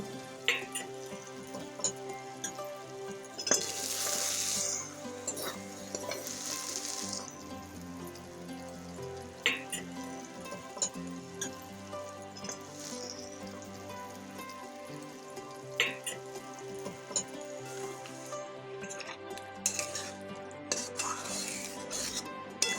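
Paneer pieces being fried and stirred in a pan, with a steady sizzle under sporadic scraping and clinking of a spatula against metal, moderately close and fairly quiet, with no talking.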